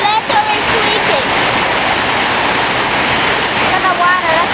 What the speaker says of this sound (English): it just started raining 5 minutes ago, and the water's squeaking out